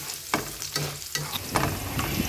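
Tortang giniling, a ground meat omelette, fries in a pan with a continuous sizzle broken by several sharp scrapes and stirs of a spatula, close and clear.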